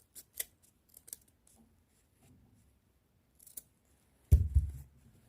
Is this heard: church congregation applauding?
no